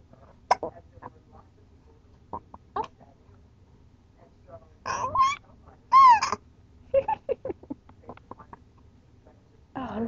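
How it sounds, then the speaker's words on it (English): A small child hiccups repeatedly in a quiet room, short sharp vocal bursts spaced irregularly, with some squeaky silly vocal noises in the middle, close and clear. "Oh, hiccups."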